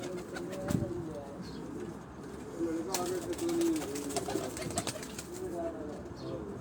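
Pigeons on a Rawalpindi rooftop coo in soft, low repeated phrases, with a clearer run of calls midway, while people talk nearby throughout.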